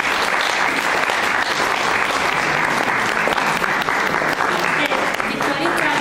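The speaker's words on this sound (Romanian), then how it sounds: "vă rog să-i aplaudați" Audience in a hall applauds volunteers being called to the stage: dense, steady clapping from many hands fills the whole stretch at close range, loud and unbroken, with no voices rising above it.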